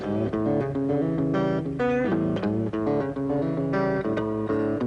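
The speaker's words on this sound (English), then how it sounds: "and the warm tones of an acoustic guitar." Bright acoustic guitar notes ring out in a steady melodic run of plucked tones and chords, played close and clear without any talking.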